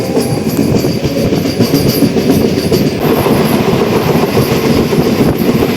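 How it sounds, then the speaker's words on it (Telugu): A MEMU commuter train pulls away from Manchili station, its steady rumble and rolling wheel clatter loud and continuous with faint squeals, heard from on board with no voices. "ఇప్పుడే మంచిలి నుంచి మన ట్రైన్ అయితే స్టార్ట్ అయిపోయింది"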